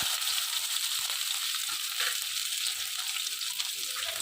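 Vadagam, a sun-dried tempering mix of small onions with fenugreek, mustard and cumin, fries in hot oil with a dense, steady sizzle that crackles evenly from start to finish.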